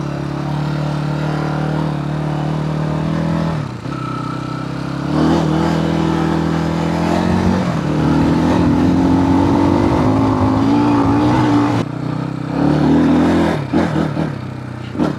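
A motorcycle engine revs loudly up close in long rising and falling pulls, with brief drops in throttle around the fourth and twelfth seconds.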